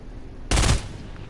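A short burst of video game gunfire in a soldier shooter, one loud rapid volley lasting a fraction of a second, standing out alone against quiet background noise.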